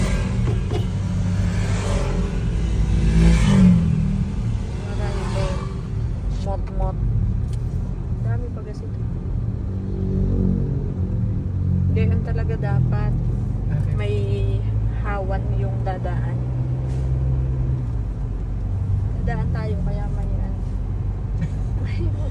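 Motorcycle engine noise rumbles steadily through the clip as it passes nearby, with people talking over it throughout.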